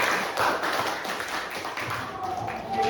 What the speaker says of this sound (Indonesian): Ya, tepuk tangan untuk semuanya.